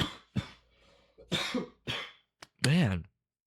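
Several short, sharp coughs and a throat clear close to the mic during a quiet nighttime chat, separated by brief pauses, with a longer raspy clearing at the end.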